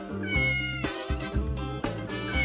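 A cat gives three or four close, clear meows in quick succession, each a drawn-out, tonal call with short breaks between them and no other sounds.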